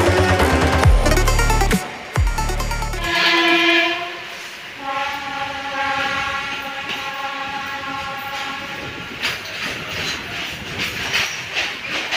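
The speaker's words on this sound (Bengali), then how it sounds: "তা ট্রেন ছেড়ে দিয়েছে, উঠেও পড়েছি।" A Kolkata local train runs between Lake Gardens and Ballygunge late at night: a loud low rumble at first, then harmonic horn-like tones over steady rolling wheel and carriage noise, with no voices.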